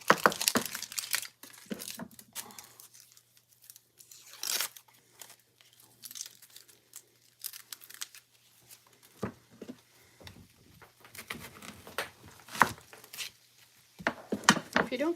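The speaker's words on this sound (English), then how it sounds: "If you don't cut all the way through, you get to peel this part off." A big onion's dry outer skin is peeled off by hand in a home kitchen, heard as close, intermittent crackling and tearing with a soft hum beneath and brief gaps between pulls.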